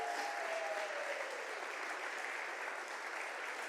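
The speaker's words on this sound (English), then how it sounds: "Big round of applause for Josh there" Audience applause for barista Josh at a UK Barista Championship 2023 regional heat in London, steady dense clapping filling the whole stretch at moderate level, with no voices over it.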